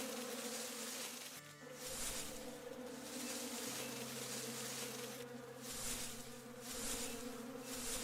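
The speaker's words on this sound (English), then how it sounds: "I hear the bees buzzing, too." Bees buzz in a video game by a lake, with a steady droning hum that swells and fades in slow pulses as insects pass nearby.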